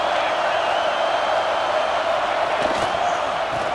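Stadium crowd in EA Sports College Football 26 during a red zone defensive stand, a broad, steady roar of cheering that holds level throughout, with a brief rise in noise near the end.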